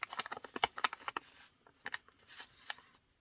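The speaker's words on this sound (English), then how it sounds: "sorry for the rustling" Crinkly packaging rustles close by in quick, uneven bursts, with a pause and then a few more handling sounds before it fades out.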